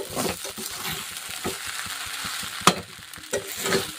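Kanda poha being stirred in a pan after coriander and lemon juice are added, soft scraping and stirring strokes over a faint sizzle, with a sharp clink of the spoon against the pan near the end.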